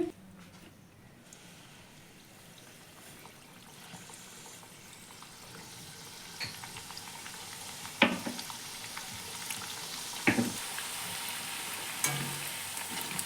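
Papdi for dahi papdi chaat fry in oil in a kadai, a quiet steady sizzle with a few sharp clinks and scrapes from a utensil, with no talking.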